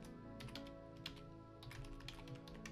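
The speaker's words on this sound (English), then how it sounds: "So we go in here, we can type in our message," A message being typed on a computer keyboard: steady, quick key clicks close by over a continuous low hum, with no talking.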